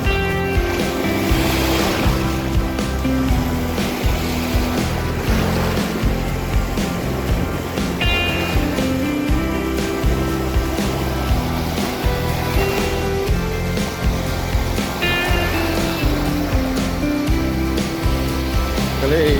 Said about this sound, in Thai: ทะเลหน้าหาดแสงจันทร์ตอนเช้า